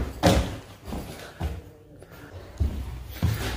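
Thuds and knocks as a door is handled in an abandoned old building during a walk-through, several dull impacts spread across a few seconds with quiet pauses between them and no talk.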